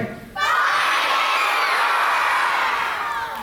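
A crowd of schoolchildren at a diabetes walk shouts together in one loud, sustained burst after a brief quieter lead-in, voices blending into a cheering roar that fades slightly at the end.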